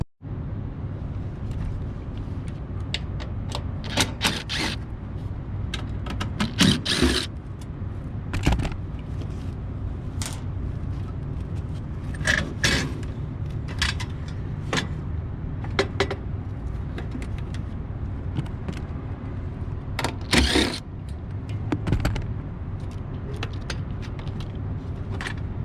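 Screws coming out and a furnace burner assembly being pulled from a unit during a no-heat service call, rendered as scattered metallic clicks, scrapes and clanks over a steady low hum, close and moderately loud, with no talking.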